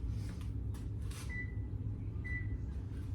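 Two short electronic beeps from an oven's control panel as it is set to 350 degrees, spaced about a second apart, over a steady low kitchen hum with no talking.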